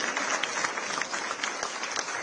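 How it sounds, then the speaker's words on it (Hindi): Applause rings out at a ceremony in Madhya Pradesh honouring cricketer Kranti Goud, here greeting her mother, Neelam Goud: a steady, moderately loud patter of many hands clapping at once, continuous throughout. "जोरदार तालियां करती"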